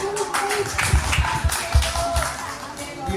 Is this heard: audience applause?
yes